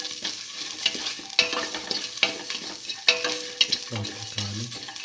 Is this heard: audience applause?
no